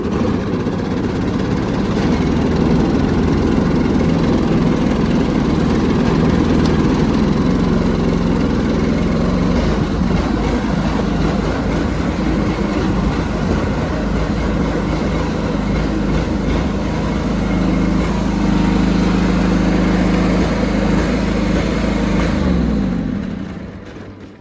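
A John Deere 425 lawn tractor engine with new coils runs loud and close for about 24 seconds, holding a steady, slightly uneven chugging drone before cutting off near the end.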